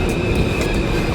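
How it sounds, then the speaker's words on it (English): A not-in-service E subway train passes through a station in Jamaica without stopping, a loud, close, continuous rumble of wheels on rails with a steady high whine and light clatter throughout. "Look at that, not stopping, not in service E train."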